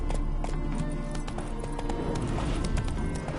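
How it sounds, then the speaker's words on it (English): Horse hooves clip-clop in a video game, a rapid run of hoofbeats at close range with steady rhythm over a faint background bed. "Spooking my horse."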